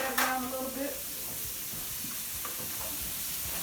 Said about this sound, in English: We got the spoon. We're going to stir that down a little bit.